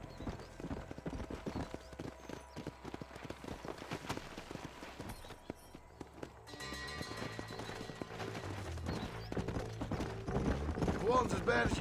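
Horse hooves clip-clopping at a gallop in the western video game Red Dead Redemption, a rapid rhythmic pounding mixed with game music and effects, building louder toward the end with a whinny in the mix.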